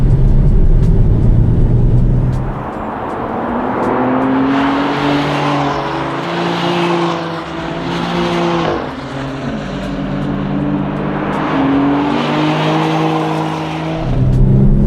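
A GT4 race car on track, its engine note falling under hard braking from around 140 and then rising again as the throttle is squeezed back on out of a late-apex corner, loud and close for the whole stretch.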